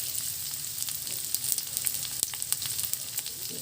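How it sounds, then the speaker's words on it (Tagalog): Chopped onion hissing and crackling in a hot pot with ginger while making Filipino chicken nilaga, a steady close sizzle with scattered sharp pops throughout. "Tapos ay lalagyan natin ng sibuyas."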